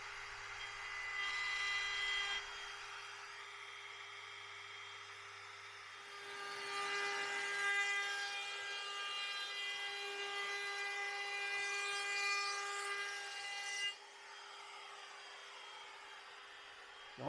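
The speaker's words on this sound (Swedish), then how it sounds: "Och så ska vi köra fräsen på den." An electric router mills the edges of a wooden piece, with a steady high whine that swells into louder, rougher cutting from about the middle and then eases back to a lighter hum.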